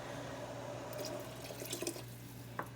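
A cup of water poured into a soup pot of chicken broth, onions and garlic for Zuppa Toscana, a faint splashing trickle with a few brief drips, heard alone.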